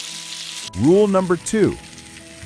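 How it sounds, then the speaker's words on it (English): Steak searing in a screaming-hot cast iron pan gives a steady, bright sizzle, clearest before and after someone briefly speaks over it. "the sound you're listening for is a loud, confident sizzle the second the steak hits the pan"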